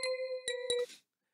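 Bell-like chime tones from the Sprunki music game, three bright ringing strikes with the first held longest, followed by a short noisy burst and then silence.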